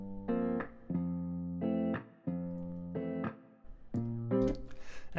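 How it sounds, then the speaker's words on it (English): Rhythm guitar parts from a studio band mix, sustained chords ringing in short clean phrases with brief gaps between them, ending in quick strummed chops. "so for my guitars, I've got these rhythm parts that sound like this."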